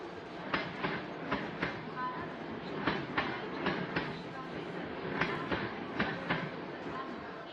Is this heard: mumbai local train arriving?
yes